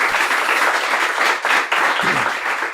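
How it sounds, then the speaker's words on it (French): Studio audience applauding a podcast guest, a steady wash of clapping hands filling the whole short stretch at close range, briefly dipping once before resuming. "On l'applaudit."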